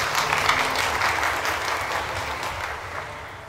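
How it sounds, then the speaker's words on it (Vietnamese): Congregation applauding inside a Catholic church at the close of a wedding ceremony in Vietnam, a steady wash of many hands clapping that continues evenly and tapers off slightly. "Chúng ta chúc mừng anh chị một tràng pháo tay."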